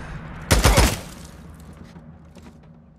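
A short burst of rapid gunfire in the video game Days Gone, several sharp cracks in quick succession, then a fading tail and low ambience.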